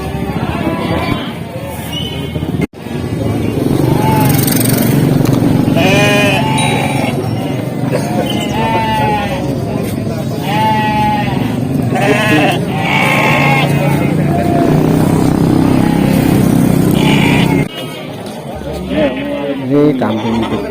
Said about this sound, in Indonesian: Ini kambing betina.